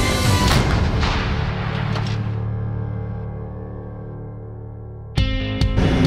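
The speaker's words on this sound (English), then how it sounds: "the artillery live fire" French Marines firing artillery in live fire, a heavy boom at the start that decays into a long rumbling tail, then further sharp reports near the end.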